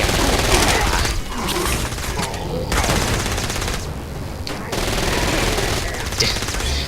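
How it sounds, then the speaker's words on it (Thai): Rapid SMG gunfire in the Saints Row Gat Out of Hell video game, sustained bursts of fast automatic shots with brief gaps, loud and dense, with game effects layered beneath. "เป็น SMG ก็เลยเบา"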